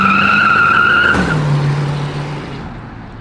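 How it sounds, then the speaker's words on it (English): A big-block Plymouth Superbird roars through a burnout, engine howling with a steady tone that drops in pitch midway while a harsh, hissing tire squeal carries on close and loud before tapering off. "getting to do a burnout in a Superbird"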